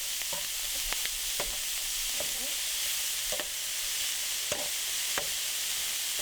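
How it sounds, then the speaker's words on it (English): Browned beef and sausage sizzling steadily in a greasy pan, with a spoon scraping and stirring in irregular strokes over the constant hiss. "So let me add back the beef."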